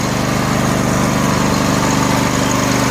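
John Deere L118 lawn tractor with a Briggs & Stratton Entek 22 HP twin engine idling, a steady loud close rumble with continuous even tone and no pauses.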